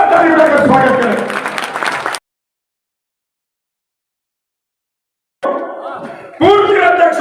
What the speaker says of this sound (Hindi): एक बार मदन जी राठौड़ का जोरदार ताली बजाकर स्वागत करें